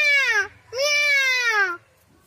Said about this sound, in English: Cat make a mewing sound.